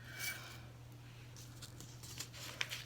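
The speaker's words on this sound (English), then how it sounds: "you're going to come through with your scissors and you're going to cut along the edge" Scissors snip through fabric along the edge of a one-pleat face mask pattern, producing faint, close crisp cuts and light scraping over a low steady hum.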